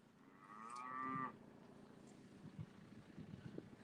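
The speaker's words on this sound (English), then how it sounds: "we got lots and lots of cows in here" A single drawn-out moo from a calf in a pen on a beef farm rises for about a second and stops, followed by quiet shuffling and faint thumps.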